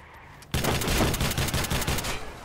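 Gunfire in the video game Watch Dogs Bad Blood: a loud burst of rapid automatic shots starting abruptly after a short quiet lead-in, rattling on for about two seconds.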